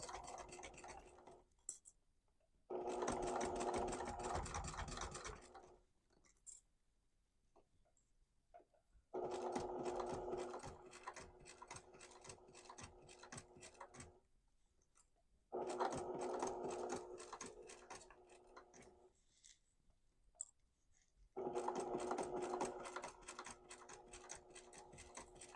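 A sewing machine stitches over quilted fabric with a dull needle, its rapid mechanical chatter and thunking coming in several bursts a few seconds long, separated by quiet pauses.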